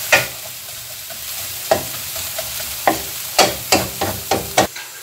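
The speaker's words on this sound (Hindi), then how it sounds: "तार हाफटा आमरा तेले दिए अल्प फ्राई करे नेब" Dal frying in hot oil in a kadai for chicken khichuri, a soft sizzle broken by a series of sharp scraping stirs that grow more frequent toward the end, close and without talk.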